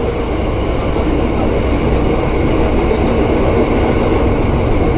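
A CRRC-built KRL commuter train at Cipinang depot, heard as a continuous loud rumbling roar of rolling stock that holds even for about five seconds.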